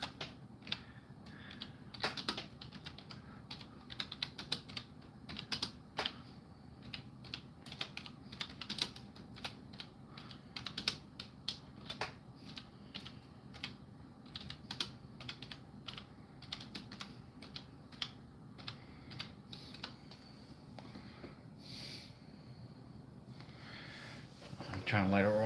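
Computer keyboard typing in irregular bursts of clicks throughout, fairly close and moderately loud, with no speech over it.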